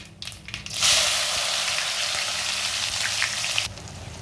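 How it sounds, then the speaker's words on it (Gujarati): Onions and tomatoes, with mustard seeds, cumin, chili and ginger, sautéing in a home-kitchen pan: a steady, fairly loud sizzle and crackle runs for about three seconds after a quieter start, with no talking. "ડુંગળી ટમેટા હવે સતળાઈ ગયા છે"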